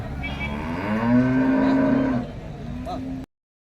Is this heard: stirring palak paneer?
no